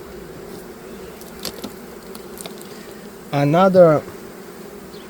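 Honey bees buzz faintly in the background around a hive early in the day, with a few soft ticks, then a person briefly speaks near the end.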